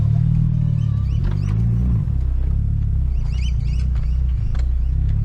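Mitsubishi Lancer Evolution VI on a spirited road drive, a steady low engine drone and road rumble heard from inside the car, continuous and fairly loud with faint squeaks on top.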